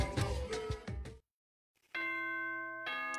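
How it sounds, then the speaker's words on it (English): Bright electronic multi-tone chime from the Danganronpa video game, sounding before Monokuma's announcement; a burst of sustained, clean ringing tones that follows a loud stretch of other sound and a moment of silence. "Ding dong, bing bong."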